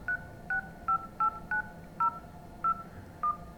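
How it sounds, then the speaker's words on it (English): Eight short electronic phone keypad tones beep in an uneven typing rhythm, each a clean two-note dialing chirp, alone over faint room hiss. "Let's just load the phone up and type in some numbers."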